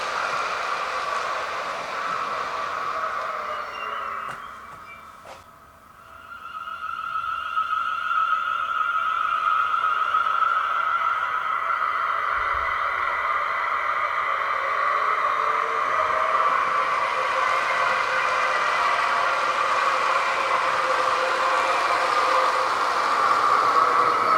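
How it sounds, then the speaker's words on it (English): A model train's sound speaker plays a steady British Rail Class 450 electric train hum with a high whine and rumble, briefly dipping before resuming at an even, moderate level. "Getting a speaker in one of these 450s, class 450s."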